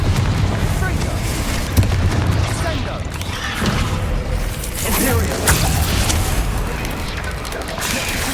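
A fire-blast spell explodes in the Hogwarts Legacy game, set in a cavern, as a dense booming burst amid continuous loud game rumble and effects, with a voice talking over it.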